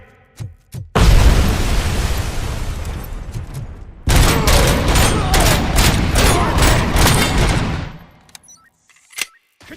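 Heavy sustained gunfire in the RoboCop Rogue City video game, loud and close, with dense continuous bursts and booms running for several seconds, a brief pause, then another long volley before tapering off.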